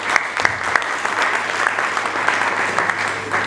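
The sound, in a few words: audience applause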